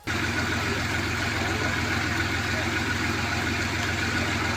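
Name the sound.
tractor engine pulling a bus out of flooded underpass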